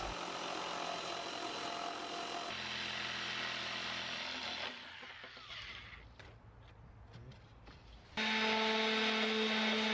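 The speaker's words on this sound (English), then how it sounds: "we cut out a hole for the roof vent" A power tool cuts a roof vent opening through the wooden ceiling of a Ford Transit Connect van, a loud steady whine that drops to a lower rough grinding midway, then surges back to full loudness near the end.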